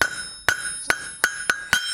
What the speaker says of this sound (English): I'm using a 3-pound hammer